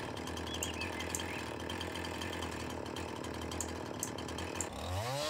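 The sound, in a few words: chainsaw cutting wood in video game Farming Simulator 19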